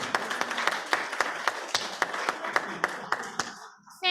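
A room full of people applauds the welcoming and membership committee at a temple gathering, a dense patter of clapping with several sharper individual claps standing out, fading toward the end.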